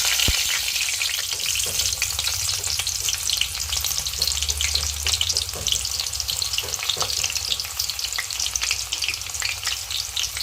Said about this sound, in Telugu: వేడైంది కదండి, ఉల్లిపాయ పచ్చిమిర్చి వేసేసుకుందాం